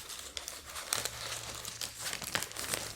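Two sheets of paper crinkle and rustle as they are handled close up, giving soft irregular crackles and one sharper crumple, in a quiet, intimate setting.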